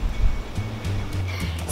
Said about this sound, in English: So while we're waiting on the water tank to drain